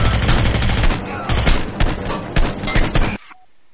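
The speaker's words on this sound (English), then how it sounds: "You shoot people." Gunfire in Hitman: Blood Money rattles in a dense, loud, continuous burst of shots lasting about three seconds, then cuts off sharply to near silence.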